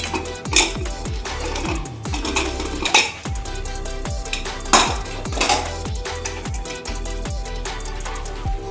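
A pressure cooker lid comes off a pot of village-style goat trotter curry after several whistles, with repeated close metallic clanks and rattles against a pot, in an irregular rhythm over a ringing tonal background.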